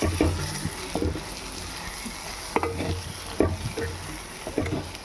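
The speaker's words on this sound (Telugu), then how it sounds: "అలా ఒకసారి కలుపుకొని" Egg curry being stirred in a pan, with repeated scraping and clanking strokes of a spoon over a low sizzle, the strokes coming in uneven bursts every second or so.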